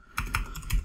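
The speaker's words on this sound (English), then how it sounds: "once again, I'm typing around my mic here" A few separate keystrokes click on a computer keyboard near a microphone, quiet and crisp, with short gaps between presses.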